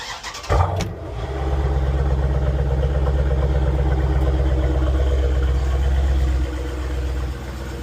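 Steady, loud engine drone of a Jeep SRT on the move, with a thump near the start and a low rumble that holds through most of the stretch before easing slightly near the end, no talking.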